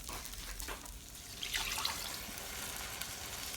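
Water poured into a pot of seasoned rice, about two and a half cups over one cup of rice, a soft steady splashing trickle heard up close and fairly quiet, with no talking.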